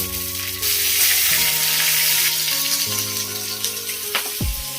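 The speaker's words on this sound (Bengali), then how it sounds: "তেলটা আমার গরম হয়ে গেছে, আমি এর মধ্যে 1 চামচি সাদা জিরে ফোড়ন দিয়ে দিলাম। আর দিয়ে দিলাম কটা কাঁচা লঙ্কা।" White cumin seeds and green chillies fry in hot oil for a Bengali koi fish curry, giving a loud, steady sizzle that swells just after the start and crackles on, with soft music in the background.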